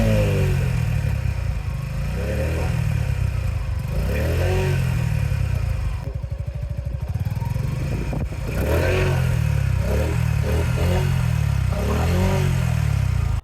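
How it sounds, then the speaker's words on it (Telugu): A Suzuki Gixxer SF 150 motorcycle idles and is revved repeatedly, its exhaust note rising and falling in several loud, close throttle blips over about thirteen seconds. "బైక్ని అయితే స్టార్ట్ చేసాం కదా, ఎగ్జాస్ట్ నోట్ కూడా వినండి."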